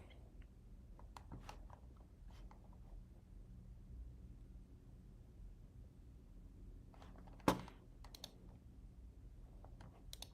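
Sparse keystrokes on a computer keyboard tap out in short bursts, faint and close, with quiet pauses between them and one sharper click partway through.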